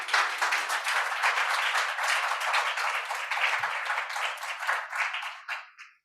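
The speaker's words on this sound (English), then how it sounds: "please give a big round of applause to the panelists once again" Dense, sustained applause from a conference audience thanking the panelists at a circular economy event, steady and loud across the room before fading out at the end.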